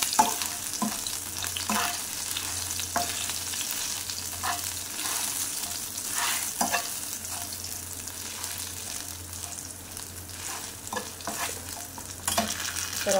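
Garlic frying in a pan, a constant close sizzle with repeated scraping stir strokes at an irregular pace throughout.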